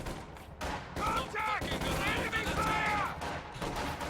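Battle gunfire from Company of Heroes 2, with pioneers and combat engineers exchanging fire; dense crackling shots and bursts run continuously at moderate loudness, mixed with game effects and talk over the top.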